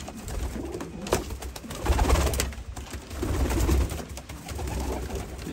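Çayka pigeons coo in a coop, with repeated soft throaty coos rising and falling close by, alongside rustling and occasional flutters.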